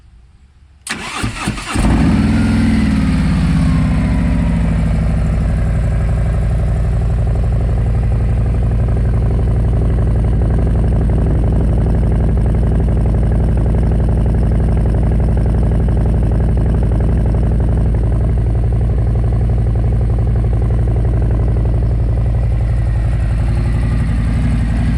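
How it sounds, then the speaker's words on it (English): A 2024 Harley-Davidson Road Glide motorcycle fires up after a short crank, then settles into a steady, loud, low rumbling idle that runs on evenly and close by. "let the bike run for like a minute or so, just so the oil can flow through the engine and it could actually get hot"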